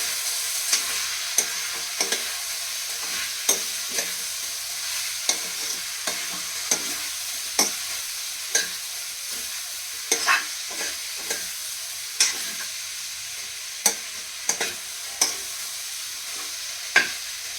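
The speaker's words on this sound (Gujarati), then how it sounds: "હવે આપણે આને હલાવી નાખીશું।" Potatoes and cauliflower frying with green peas, red chilli powder and coriander-cumin powder in a pan, a steady close sizzle broken by regular sharp scrapes of a spoon stirring against the pan.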